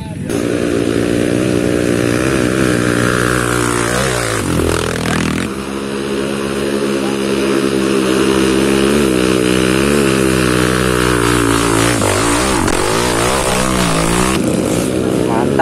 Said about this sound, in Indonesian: Aduh, motornya berbet.